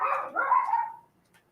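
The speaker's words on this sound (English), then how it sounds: "my dogs are just letting loose outside at the moment" Several dogs bark outdoors in a loud burst of overlapping yaps and barks, one setting off another, then falling quiet after about a second.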